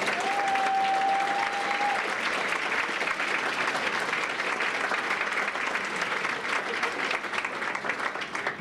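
An audience at a Hall of Fame ceremony gives a sustained round of applause for scholarship winners, steady crowd clapping throughout with a brief tonal whistle-like note near the start.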